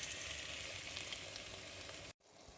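Celery and vegetables sizzling in a beef vegetable soup pot while being stirred, a steady close hiss of frying with faint scraping, cutting off abruptly near the end to a quieter background.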